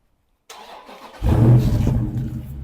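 A Dodge Charger Scat Pack's 6.4-litre Hemi V8 cranks briefly and then catches, settling into a strong, rumbling idle close by.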